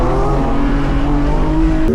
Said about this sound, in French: La Porsche elle gueule hein.